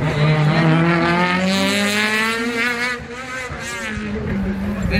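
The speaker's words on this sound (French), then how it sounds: "Elle fait du bruit, elle pétarade et elle fait plaisir, cette Civic de l'équipage présent." A Honda Civic rally car engine revs hard and close, a loud, steady high-pitched roar with shifting pitch and crackling backfire pops at a rally event.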